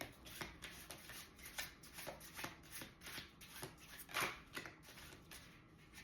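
Tarot cards are shuffled close up in a quiet room, with soft repeated riffling and flicking bursts in an uneven rhythm.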